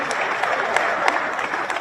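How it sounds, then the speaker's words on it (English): Audience applause at a regional leaders' summit, steady clapping from a crowd that stays at an even level throughout, with a few sharper individual claps standing out. "Give them a round of applause."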